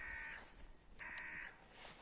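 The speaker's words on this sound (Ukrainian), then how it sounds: "Птиця яка. Кар, кар, кар." A crow in a forest gives two drawn-out caws, faint and somewhat distant, separated by a short pause.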